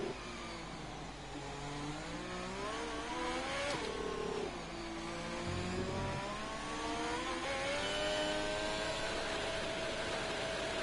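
Racing car engines in the F1 2020 video game at the French Grand Prix, revving with rising and falling harmonic sweeps. A loud, continuous mechanical whine without speech.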